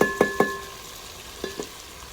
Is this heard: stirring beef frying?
yes